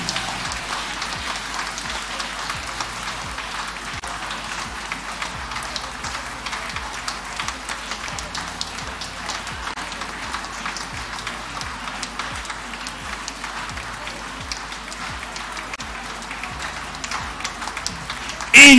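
A church congregation claps hands steadily during a prayer, with dense, continuous applause-like patter and no voices standing out.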